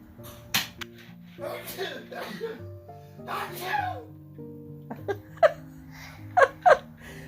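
A sharp sneeze bursts out amid a few short voices and harmonic music, followed by more quick vocal bursts.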